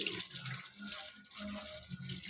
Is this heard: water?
yes